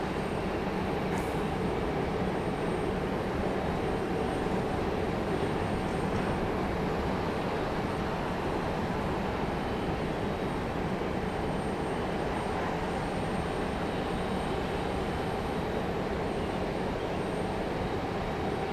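An airliner at Raleigh Durham International Airport gives off a steady, distant engine rumble as it waits to move onto the runway, a constant broad roar with no talking.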